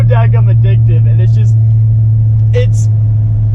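A 500 hp 2016 Chevy Silverado 2500 with a 6.6L LML Duramax diesel pulls hard with a loud, steady low drone, while someone talks over the engine noise near the start and again briefly later.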